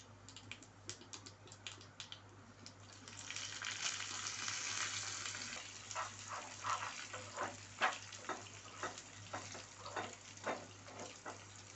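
Oil with chillies and garlic frying for gongura pachadi: a soft, steady sizzle with a run of quick crackling pops, close and fairly quiet, with no voices.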